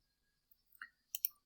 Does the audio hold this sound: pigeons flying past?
no